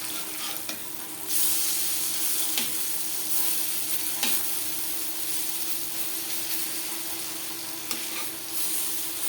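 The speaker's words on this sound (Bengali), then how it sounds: "পাকোড়া ভাজবো" Pakoras frying in hot oil over a medium flame, making a continuous bubbling sizzle broken by occasional sharp crackles and a few soft stirring scrapes, with no voices.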